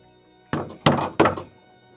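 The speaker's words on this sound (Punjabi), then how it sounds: "ਜਾ ਵੇਖ ਕੌਣ ਬੂਆ ਖੜਕਾਉਣ ਡਿਆ" Someone bangs hard on a gate: three heavy, close thuds in quick succession, each ringing briefly before the quiet returns, with no voices.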